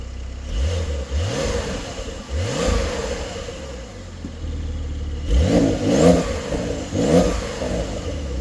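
A 2024 Porsche 911 Carrera with PDK gearbox revs in several rising bursts, its engine climbing and dropping repeatedly before pulling away, loud and close with no talk.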